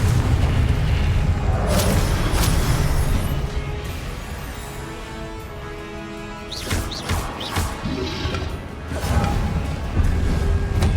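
Heavy magical blasts of the Confringo spell boom again and again in combat in Hogwarts Legacy on PS5, loud rumbling explosions with sharp cracks and crashes layered over a dense battle din.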